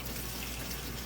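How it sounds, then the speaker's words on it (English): Water runs steadily into a kitchen sink while food is rinsed and drained, a brief, dense, even gush that is close and fairly loud with no talking. "you want to rinse and drain"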